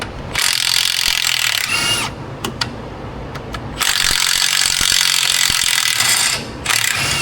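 An impact wrench loosens bolts on a Ford 2.7 EcoBoost, sounding in loud, close, rattling bursts: one of about two seconds, a longer run of nearly three seconds after a pause with faint clicks, then a short final burst.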